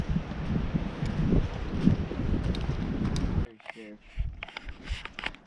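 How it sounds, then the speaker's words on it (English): Blustery winter wind on a mountaintop buffets the microphone in heavy low rumbling gusts, then drops away abruptly, leaving faint rustling and quieter noises. "it's windy up here."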